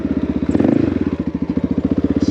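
A Honda XR650L motorcycle swinging through a skid turn on a narrow road, its single-cylinder engine thumping in a rapid steady pulse with a short surge of throttle partway through, close and loud.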